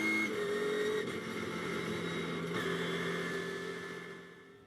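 An orange and blue Ginetta G56 race car passes on the Snetterton circuit, its engine a loud, steady drone close by that eases and fades in the last second.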